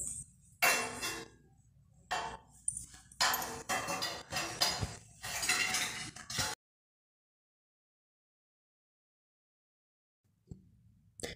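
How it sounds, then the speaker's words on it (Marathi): Mustard seeds and cumin hit hot oil in a heated kadhai, giving close, dense bursts of crackling and popping for about six seconds before falling silent, with a faint knock near the end. "तेल गरम झालेलं आहे, त्यामध्ये मोहरी आणि जिरे ॲड करत आहे।"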